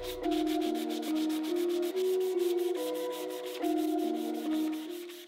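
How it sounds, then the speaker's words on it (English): Steady back-and-forth rasping of sandpaper on wood, touching up a simple wood project, repeated strokes in a regular rhythm, with a melodic tune playing underneath. "now I'm going to touch up on the sanding."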